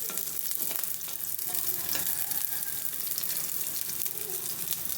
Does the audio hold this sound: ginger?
yes